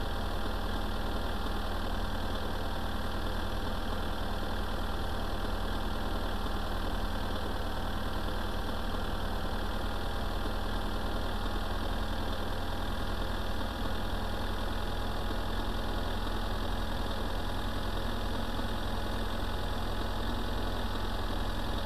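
The tractor engine in the video game My Summer Car idles for over twenty seconds with a steady, unchanging mechanical rumble and hum. No one speaks.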